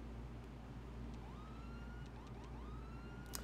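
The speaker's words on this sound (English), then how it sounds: "Are you hearing the sirens now?" A wailing ambulance siren in the video game GTA 5, its pitch sweeping up and holding in repeated rising cycles, steady and moderately distant over a constant low hum, with no talk.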